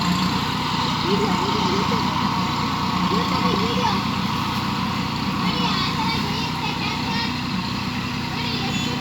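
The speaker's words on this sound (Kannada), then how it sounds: "ಪುಟಾಣಿ ಟ್ರ್ಯಾಕ್ಟರ್ ಅಲ್ವಾ ನೋಡಿ" A mini tractor's engine runs steadily while cultivating a field, a continuous loud droning chug with no breaks, as people talk over it.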